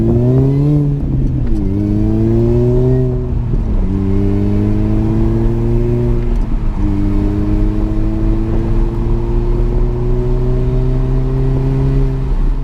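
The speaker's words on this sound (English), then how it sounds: "it makes that supercharger whine even louder" An R53 Mini Cooper S engine with a reduced supercharger pulley revs up repeatedly, each rise carrying a strong, steady supercharger whine that climbs in pitch, loud and close, with no talking.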